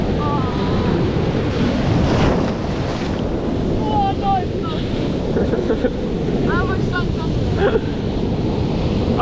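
Ocean waves and surf roar continuously while surfing slab barrels and a drainy left in Australia, with steady wind buffeting the microphone and brief whistling tones on top.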